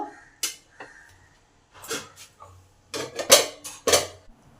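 A lid goes onto a pan of shushni greens cooking on the stove, giving a few close metallic clanks and clatters in short bursts with quiet gaps between them.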